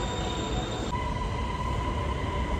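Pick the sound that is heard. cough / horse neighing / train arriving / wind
train arriving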